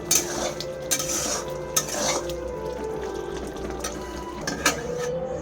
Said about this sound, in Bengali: কাঁচা লঙ্কা চিড়ে দেওয়া হচ্ছে, গোলমরিচের গুঁড়ো অ্যাড করা হলো, নেড়ে নেওয়া হচ্ছে